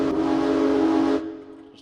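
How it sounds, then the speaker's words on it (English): Train horn for the Wizard With a Gun video game, slowed and stretched into a loud, sustained tonal blast that cuts off abruptly, leaving a faint tail. "Just a train horn. But, you know, stretch it out, do a couple things to it, make it slower."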